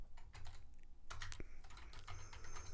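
Quick, close clicks of fingers typing a command into Terminal on a computer keyboard during iOS app setup with Xcode, in irregular bursts with brief pauses and no voices.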